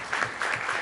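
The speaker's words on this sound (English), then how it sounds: "I think you should, a little applause for the coaches." Applause for the coaches at a city council meeting, a short burst of steady clapping from a modest crowd in a meeting hall.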